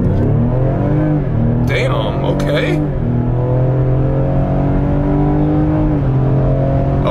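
A Ford Explorer ST engine roars and revs hard under load during a launch in a rising, sustained drone, with a man briefly exclaiming over it.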